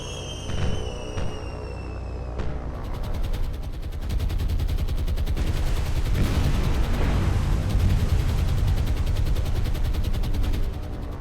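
Loud, dense rumbling explosions and rapid gunfire as 100-pound high explosive bombs strike a troop ship in the naval game War on the Sea, starting with a rising whistle and building into a continuous roaring barrage.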